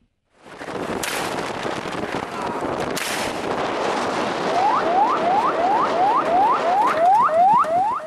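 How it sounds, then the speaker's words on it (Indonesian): Two sharp gunshot cracks fired into the air by Jakarta police ring out a couple of seconds apart over steady outdoor noise, followed by a rapid series of rising, chirping siren-like whoops. "Dengan melepaskan tembakan ke udara"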